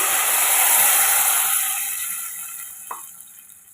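Steady rushing pour of water into a cooking pot of sambar, loud at first and tapering off gradually, with a brief clink near the end.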